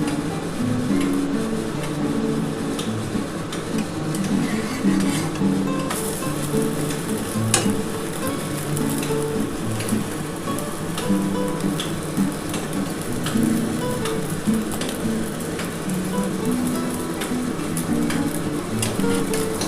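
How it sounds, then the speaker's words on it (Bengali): Vigorous frying in mustard oil in a kadai for an egg omelette curry, a loud, dense continuous sizzle with crackles and occasional utensil taps, no voices. "এবার আমি এই কড়ার মধ্যে সর্ষের তেল দিয়ে দেবো।"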